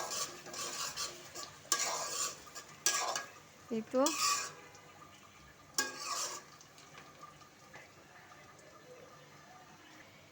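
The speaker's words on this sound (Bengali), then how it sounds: "এখন এগুলোকে একটু ব্রাউন কালার করে ভেজে নেব।" Onions frying in a pan for a mixed vegetable curry, stirred with a utensil in several scraping bursts over a faint sizzle, with a brief spoken remark partway through.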